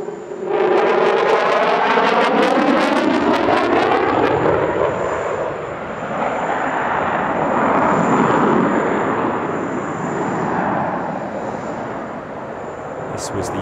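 An F-16 fighter jet flying at the Dubai Airshow opens with a loud, rising engine whine and roar. The roar then settles into a sustained, slightly fluctuating rumble as the jet passes.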